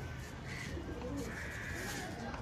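Green pigeons, a male and female pair at a pigeon seller's stand, coo in low soft warbles amid a busy, rumbling background, fairly faint and steady.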